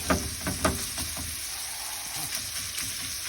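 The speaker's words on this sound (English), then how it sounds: "break it up into little sausage bits as you are browning it" Sausage browning in a pan for a breakfast casserole, a soft steady sizzle with a few sharper crackles and scrapes of a utensil breaking up the meat near the start.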